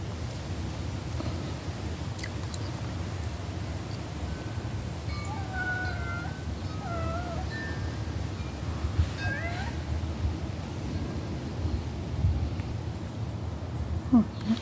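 A half-wild orange barn cat meows several times in short, plaintive calls against a steady low background hum, fairly faint.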